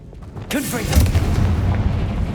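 Confringo fire blast spell cast in Hogwarts Legacy on PS5: a single sharp blast hits about half a second in, followed by a rolling, rumbling low boom that lingers to the end.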